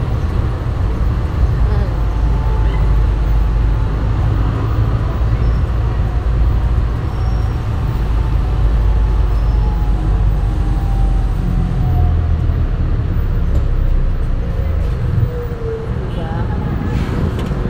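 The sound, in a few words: tricycle passing in road traffic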